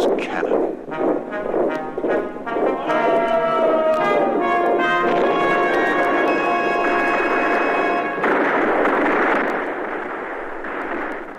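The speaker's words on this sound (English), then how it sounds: "Let's hear those cannon." Heavy booms of cannon fire in quick succession, then a loud, sustained roaring rumble with ringing tones that slowly fades.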